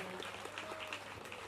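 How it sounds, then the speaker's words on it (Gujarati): Audience applause welcoming a guest at a Devi Bhagwat katha gathering: a faint, distant patter of many hands clapping, steady and continuous for a second and a half. "જોરદાર તાળીઓ ગગડાથી આપણે વધાવી દઈશું."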